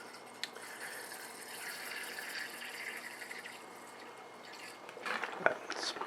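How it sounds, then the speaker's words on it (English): Water trickles steadily into a small beaker for several seconds, a soft filling hiss that quickens and splashes louder near the end, recorded close up with no talking. "adding water to a small beaker until it reaches about 80 milliliters or so"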